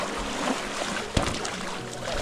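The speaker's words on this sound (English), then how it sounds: "Just the waves lapping." Small waves lap softly against a paddleboard on the Ningaloo Coast, a gentle sloshing wash with wind, with one sharp slap near the middle.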